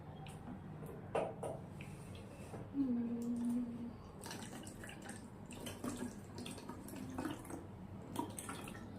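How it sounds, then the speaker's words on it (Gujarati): Water is poured from a bottle into a glass for a simple home air-pressure experiment with balloons and a straw, a faint trickle and gurgle with a short rising tone against quiet room background. "પછી તેમાં પાણી નાખવાનું."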